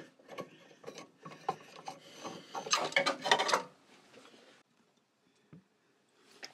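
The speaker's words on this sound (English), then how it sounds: "And now I'm just tapping the hole." A hand tap cuts a thread into a hole in steel on a metalworking bench, giving close, quiet scraping and ratcheting scrapes in a busy burst that stops, leaving near silence with a few faint knocks.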